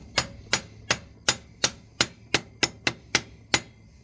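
Eleven sharp hammer taps strike a part being driven onto the clutch pedal shaft of a 1957 Farmall 450 diesel tractor, spaced in a steady, slightly quickening rhythm, close and clear with no talk.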